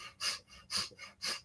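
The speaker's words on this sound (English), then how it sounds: "breath of fire, as we know, is either panting through the mouth with a rhythmic pumping of the belly" Breath of fire during a Kundalini yoga practice: three strong, evenly spaced panting breaths through the mouth, close and rhythmic, with softer breaths between, no talking.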